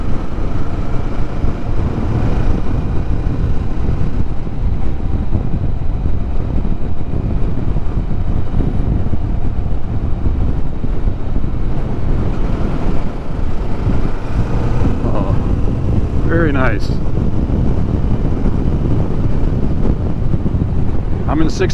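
A Kawasaki Vulcan S motorcycle cruises in sixth gear at around 53 mph, its low engine drone steady beneath heavy wind buffeting on the microphone, with a few brief higher squeals partway through.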